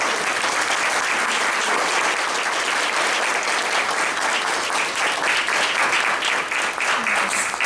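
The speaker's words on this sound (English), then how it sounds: "I hope that all of you will join me in a round of applause" An audience at an in-person training session claps in a round of applause, dense and steady for several seconds without letting up, loud and close.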